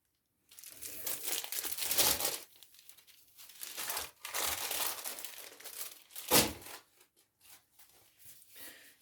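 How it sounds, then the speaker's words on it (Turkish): Parchment paper crinkles and rustles as it is spread over a metal oven tray in a home kitchen, in several loud, close bursts of crackling with short pauses between them. "fırın tepsimize güzelce bir yağlı kağıt serdikten sonra onu kenara alıyoruz"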